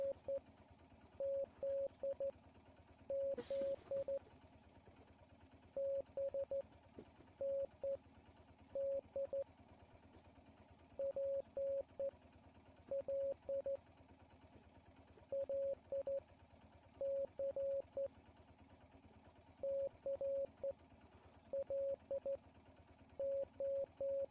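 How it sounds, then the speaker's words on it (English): A long run of Morse code beeps in the game Martha Is Dead, grouped clusters of short and long mid-pitched tones separated by brief pauses, repeating over about twenty-four seconds above a low steady hum, with no talking. "am I gonna end up learning Morse code by the end of this?"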